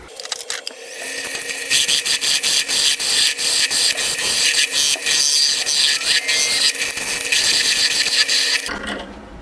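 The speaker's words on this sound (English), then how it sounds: "now I'm going to part off the end" A parting tool cuts off the end of a wood spindle on a lathe, giving a steady, close scraping and rubbing rasp that holds for several seconds and then stops abruptly.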